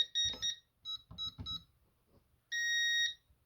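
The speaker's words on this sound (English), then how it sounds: "to trip a medical emergency alarm, push and hold the green cross until auxiliary alarm shows up" A Concord 4 security panel sounds its medical emergency alarm in short bursts of electronic beeps, several quick chirps followed by one longer sustained tone, close and clear in a quiet room.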